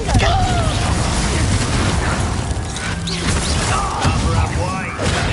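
Confringo fire-spell blasts go off in the Hogwarts Legacy video game, a loud, sustained stretch of booming crashes, pops and thuds layered with busy combat noise and swooshing spell effects.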